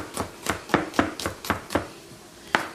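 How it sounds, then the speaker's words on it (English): A knife roughly chops ginger steadily on a board, about seven sharp, evenly spaced strikes followed by a pause and one final chop, close and clear. "The ginger, just roughly chop it up as well"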